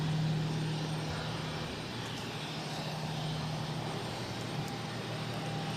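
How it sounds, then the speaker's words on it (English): A Tecnam Traveller twin-prop airplane taking off at Boston Logan, a steady distant engine drone with a low hum, fairly faint and even throughout. "This Technam traveler is taking off to Lebanon."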